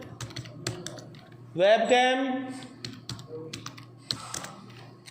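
Quick, uneven clicks of typing on a computer keyboard while product names are entered into an Excel spreadsheet, heard close up with someone speaking over parts of it.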